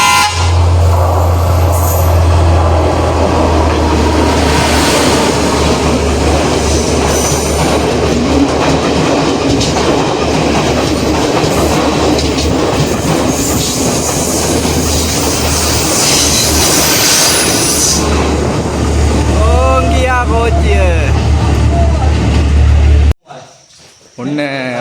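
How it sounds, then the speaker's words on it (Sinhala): A train rumbles steadily past near Meeyan Ella waterfall at Ihala Kotte, Sri Lanka, with loud sustained clatter and wheel noise for most of the stretch, a horn toot near the end, then the sound cuts away abruptly. "ඔන්න තව කෝච්චියක් එනවා."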